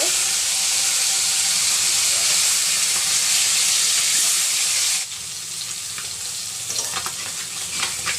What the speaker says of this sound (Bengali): আমি কড়াইয়ে এখন মাছ দিয়ে দেবো মাছটা ভেজে নেব